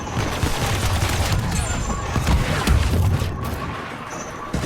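An explosion in the Star Wars Battlefront 2 video game amid a battle, heavy booming blasts and rumbling impacts over a dense, chaotic wash of combat noise.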